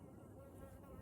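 A low, steady insect buzz hums continuously for a brief moment, close and fairly quiet.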